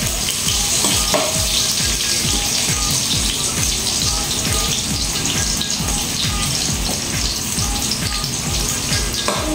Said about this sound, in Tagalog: Samantalang yung sibuyas ay medyo matagal mag-brown.